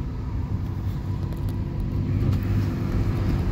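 A Buick Enclave SUV drives along with a steady, loud low engine and road rumble heard from inside the cabin, holding constant throughout with a slight swell partway.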